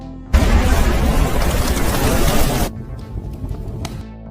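A booby-trap bomb goes off in a bunker passage in an action film, a sudden loud blast that rolls on as a dense roar for about two seconds before cutting to a quieter rumbling tail.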